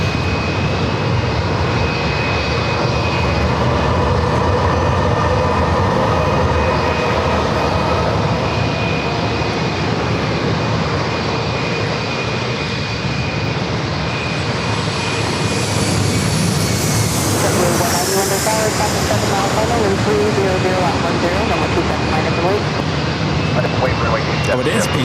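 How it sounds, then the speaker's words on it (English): A United Express SkyWest regional jet arriving from LAX comes in to land at San Diego airport, its engine roar steady and loud throughout, with people talking over it. "this is a flight coming in from LAX, United Express SkyWest, flight"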